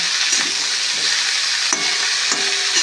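Mixed vegetables frying in a pan, a steady loud sizzle with a few spoon stirs and scrapes across the pan surface.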